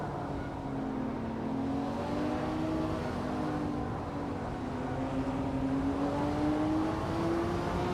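A rare, aggressive limited-production supercar with extreme aerodynamics races in a race, its engine a steady, sustained drone with a slowly rising pitch, loud and continuous throughout.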